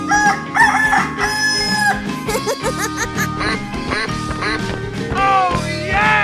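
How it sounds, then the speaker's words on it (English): Cartoonish rooster crow from a chicken character in a 3D animal sliding video game, loud and layered over busy game music with other animal calls, no talk. "Chicken."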